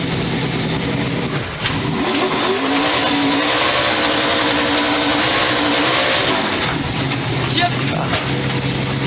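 NASCAR race car doing a burnout on the Las Vegas Strip during a victory lap, its engine revving hard and droning steadily throughout amid loud crowd noise and voices.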